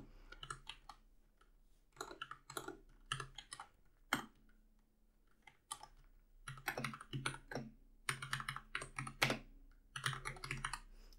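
Someone types text on a computer keyboard in the Vim editor, with quick clusters of crisp, close key clicks in irregular bursts separated by short pauses.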